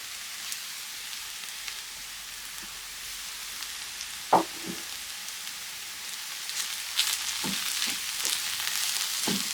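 Mushrooms frying in a pan, a steady soft sizzle with scattered crackles and a few louder stirring clinks, growing slightly busier toward the end, no talk.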